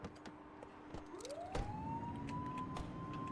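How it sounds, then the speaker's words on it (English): A police car siren wails up in a long rising sweep and holds a steady high tone, fairly distant and faint under road and cabin noise from a patrol vehicle. "Turn that siren off."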